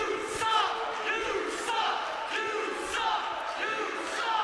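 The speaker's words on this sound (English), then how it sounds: "Crowd definitely shows their appreciation for Mickey." A wrestling crowd cheering for Mickey at an ACW show, sustained loud cheers and shouts with repeated rising swells, with a commentator talking over it.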